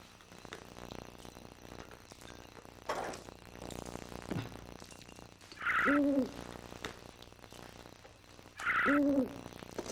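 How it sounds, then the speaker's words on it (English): An owl hoots twice at night in a horror film, each call a clear, fairly close two-part hoot spaced a few seconds apart over a low, murmuring background. "It's not pigeons. It's an owl."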